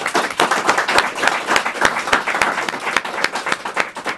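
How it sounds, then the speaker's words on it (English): An audience claps for a few seconds, a loose burst of many distinct hand claps at close range with uneven rhythm. "I want a piece of applause for this man"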